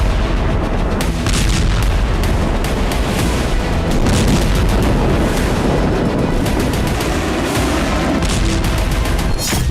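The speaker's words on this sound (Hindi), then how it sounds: "जमीन पर बम धमाके हो रहे हैं।" Bomb blasts strike the ground in Lebanon during Israeli strikes: a dense, continuous barrage of loud booms and crackling gunfire-like bursts fills the whole span, with no voices.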